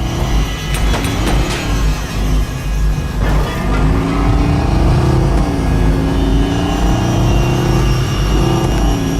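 A car in the Watch Dogs video game drives off with a loud, rising engine roar that revs and swells over several seconds, heard up close and without talk.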